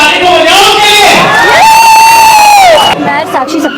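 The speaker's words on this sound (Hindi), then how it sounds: "एक बार जोर तालियां हमारे नेक्स्ट परफॉर्मर के लिए उमर।" A meetup crowd cheers and whoops loudly for the next performer, with rising shouted voices and clapping mixed into a dense, close roar that drops off near the end.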